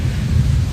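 Thunder after lightning in a storm, rain falling as a loud, low rumble rolls close by for under a second.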